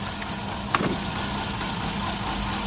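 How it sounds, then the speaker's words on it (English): A 2007 Toyota Yaris engine idles with multiple misfires, a steady low rumble running throughout with one brief sharp click near the start. "we need to Turn off the engine."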